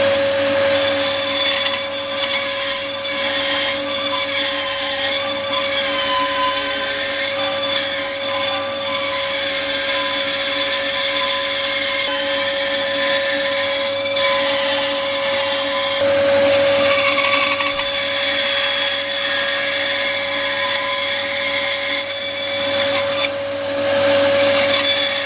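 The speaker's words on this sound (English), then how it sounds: "now I can cut it out on the bandsaw" A bandsaw cuts a hatchet handle out of maple or ash wood, running as a loud, steady, close whine with a constant tone for the whole stretch, and no talking.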